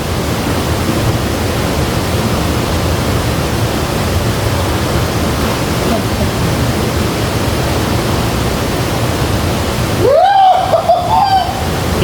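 Cold river water rushing and splashing, a constant loud broadband wash of flowing water that fills the whole stretch, with a brief voice cutting in near the end.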